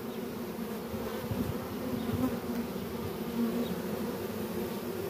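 A honey bee swarm hums in a dense, steady drone, with bees fanning close by; the buzzing is continuous and even with slight swells, and there are no voices.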